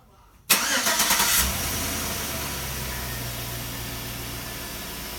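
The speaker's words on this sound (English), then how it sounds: "we push the orange button, flashes the lights, cranks the engine." A Chevy Tahoe (2003-2006) engine cranks via a Viper 5305V remote start, a sharp burst of starter cranking catching into a steady, close idle rumble that continues alone.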